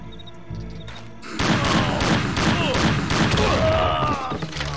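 Rapid bursts of gunfire fill a Mafia 2 video game firefight, loud repeated shots with booming impacts starting after a quieter opening.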